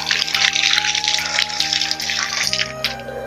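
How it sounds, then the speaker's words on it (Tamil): Tap water runs steadily into a kitchen sink while a knife is washed, a continuous broadband splash with faint clinks, fairly close and with no talk over it. "கத்தியும் இதையும் நல்லா கழுவிட்டு"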